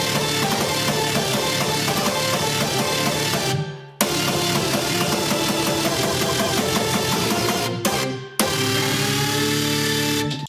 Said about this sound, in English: I'm effectively creating a kick here with this sine wave